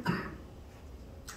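A preacher gives one sharp, close cough at the start of a Sunday afternoon worship service at a church in Incheon, followed by quiet room noise and a faint short rustle near the end.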